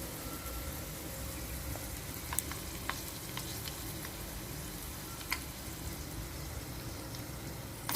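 Fenugreek seeds, cumin, curry leaves and dried red chillies fry in oil for a cucumber chutney, giving a soft, even sizzle with a few scattered crackles and pops, fairly faint and with no talking.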